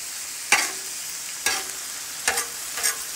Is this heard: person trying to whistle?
no